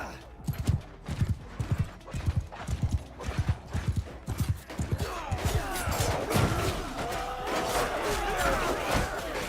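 Horse hooves clip-clopping in a steady trot during a Bannerlord battle, followed by a rising din of fighting, crowd shouts and clashing that swells and masks the hoofbeats in the second half.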